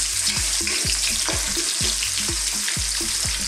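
Onion stir-fried in a pan for a Thai seafood dish, a loud continuous sizzle with rhythmic, regular spatula scrapes repeating about every half second.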